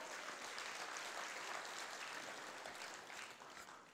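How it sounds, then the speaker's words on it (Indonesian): A crowd at a Malay-language company presentation claps together in a continuous, fairly faint wash of applause that tapers slightly near the end. "Satu tepukan kepada anda ya."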